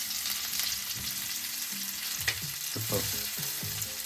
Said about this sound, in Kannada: ಸೂಪರ್ ಫ್ರೈ ಹಾಕಿದೆ. ಫ್ರೈ ಆಗ್ತಾ ಇದೆ ನೋಡಿ.